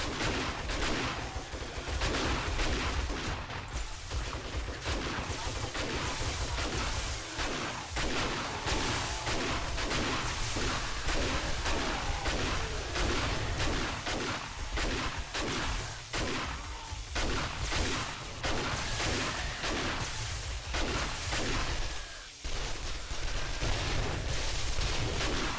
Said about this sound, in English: But at least I can use my shotgun.